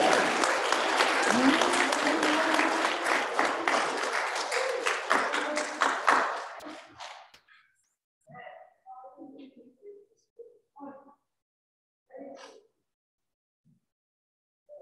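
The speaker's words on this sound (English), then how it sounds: "We need to give them one more hand clap of praise" A worship service congregation claps in praise: about seven seconds of loud, full hand clapping that gradually thins and fades, followed by scattered faint vocal sounds in quiet.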